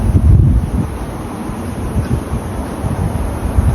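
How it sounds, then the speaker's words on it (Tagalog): Strong typhoon wind in Batangas, Philippines, buffets the microphone in loud, uneven gusts, with a heavy rumbling roar and no voices. "Siyempre sa lakas ng hangin."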